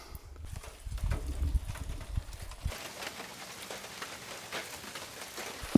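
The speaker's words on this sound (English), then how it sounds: "It's starting to rain." Rain patters steadily on a nearby surface in Alaska, a dense hiss of scattered drops following a low rumbling start.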